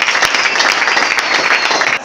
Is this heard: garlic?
no